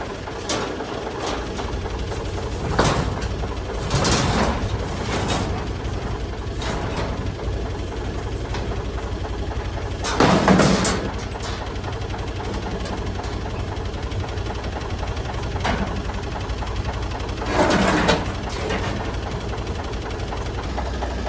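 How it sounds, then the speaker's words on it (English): Forklift engine running steadily at close range while lifting a man basket on a farm, with intermittent metallic clanks and bangs as the basket is moved into place. "put it on the forklift, get the tools, up we'll go"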